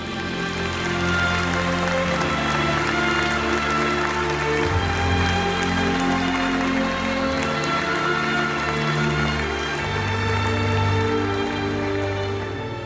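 Guests at a gastronomy and wine trophy ceremony applaud loudly and continuously while tonal music plays underneath, the clapping forming a dense, unbroken roar for over twelve seconds.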